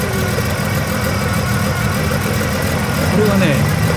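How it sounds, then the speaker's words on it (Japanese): A Nissan GT-R's S20 engine idles quietly at a classic-car gathering, a steady low rumble with faint vibration running throughout, growing slightly louder near the end, with voices talking over it. "これはね GTR のエンジン非常にね静かですね"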